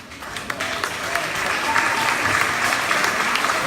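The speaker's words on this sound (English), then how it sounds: "There will be no clapping, please." Audience at a Topsfield town meeting applauds after a budget motion fails on a voice vote, a steady wash of many hands clapping close by for several seconds, with voices mixed in.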